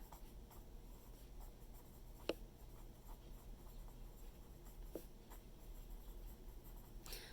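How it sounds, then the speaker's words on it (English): Pen or pencil writing out a phrase by hand during a math lesson, quiet and close with soft scratchy strokes and a few sharper taps, no talking. "I'm going to write that whole phrase on the top line."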